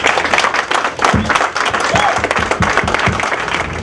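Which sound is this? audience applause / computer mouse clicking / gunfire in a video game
audience applause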